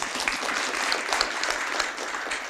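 Applause from an audience at a Korean government ministry work-report meeting: steady, dense clapping from many hands that carries through the whole moment with no talk over it.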